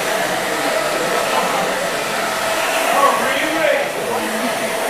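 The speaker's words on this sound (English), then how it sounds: "I love to use this Barbar blow dryer." A Barbar eco-friendly, radiation-free blow dryer running steadily in a hair stylist's setting, a loud continuous airy whoosh with a faint motor whine, close and constant throughout, with no talk over it.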